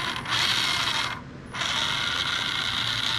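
An RC car drivetrain spins under throttle, a close, steady whirring gear-and-motor buzz that dips briefly midway and then resumes at full speed.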